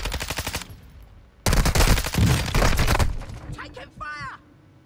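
Call of Duty gunfire: a fast machine-gun burst, a short pause, then a longer heavy burst of rapid shots, close and loud, with a voice speaking briefly near the end.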